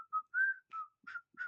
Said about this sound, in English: I can't whistle while I work.